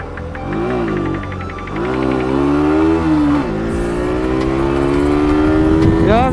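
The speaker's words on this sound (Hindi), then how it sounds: "तो अपना बाइक स्टार्ट कर लेते हैं अभी।" A motorbike engine close by revs up and down in rising and falling sweeps, its loud tone climbing repeatedly over about six seconds.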